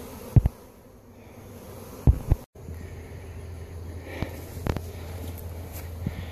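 Honeybees buzzing around a fallen tree during a colony removal outdoors, a low steady drone with intermittent louder bumps and knocks close by.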